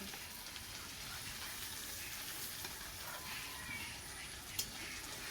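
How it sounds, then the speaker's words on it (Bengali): Paneer fries in a pan with a steady, dense sizzle and hiss throughout, broken by one small clack as a piece is turned. "দেখো বন্ধুরা পনিরটা কিন্তু উল্টিয়ে দিচ্ছি আমি"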